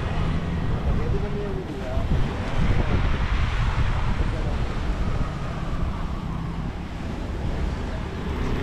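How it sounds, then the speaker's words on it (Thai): Sea waves wash onto the beach at Bang Saen, Thailand, a steady broadband roar with wind buffeting the microphone throughout, loud and continuous with no clear breaks between swells. "ให้ฟังเสียงทะเลไปเรื่อยๆ"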